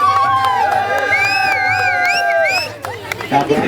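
A crowd cheers and shouts at a celebration marking one million views, high sustained whoops and overlapping voices ringing out loudly together, then fading into scattered chatter.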